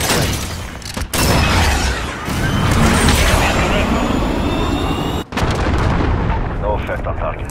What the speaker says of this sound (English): Rocket close. Cruise missile away.